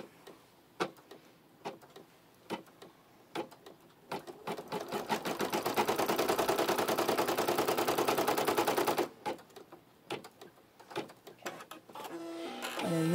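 An embroidery machine stitching a die line on fabric for a bear's torso, starting with scattered ticks and clicks, then a dense rapid rattling run for several seconds, then back to sparse ticks.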